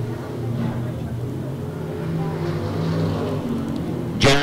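A pack of race cars roars around a dirt oval during a heat race at Farmer City, sustained engine drone with a sharp loud burst of a car passing close near the end.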